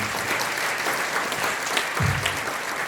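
Guests applaud at a wedding ceremony, giving a few seconds of steady, even clapping from a crowd at moderate distance with no speech.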